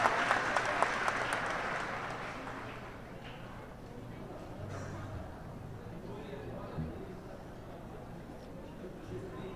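A church congregation applauds, with clapping loudest at the start and easing into a steady wash of hands mixed with murmuring voices and chatter.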